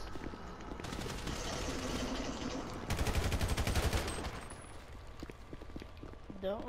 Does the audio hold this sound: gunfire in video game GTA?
yes